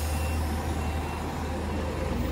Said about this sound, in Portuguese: Tem caminhão, olha lá, ó.